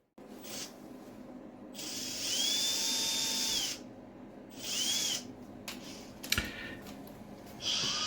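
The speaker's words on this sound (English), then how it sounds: "Take a 2mm drill and drill a hole in the center of each hinge slot in the horizontal stabilizer and the vertical stabilizer" A 2mm drill boring holes into the hinge slots of a model aircraft's horizontal and vertical stabilizers on a Carbon Cub build, heard as two or three short high whining bursts separated by quiet pauses.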